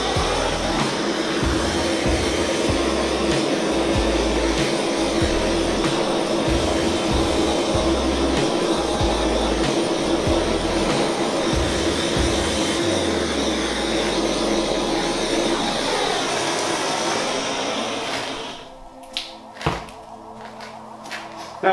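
A torch flame roars steadily for about seventeen seconds while drying spray-paint art, loud and close with some rumbling, then cuts off and leaves a few faint knocks and handling noises.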